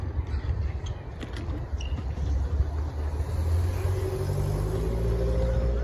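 A 1965 Buick Wildcat with white-wall tires rolls along the road, its engine a low steady rumble that builds slightly as the car gathers pace.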